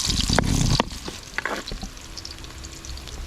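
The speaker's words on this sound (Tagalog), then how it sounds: "ilalagay na natin ang mantika at isusunod na rin ang panghalo bawang sibuyas" Garlic and onion drop into hot cooking oil for a pancit kibaw dish, setting off a loud burst of crackling that settles into a steady sizzle, with a few clinks and spatula stirs over it.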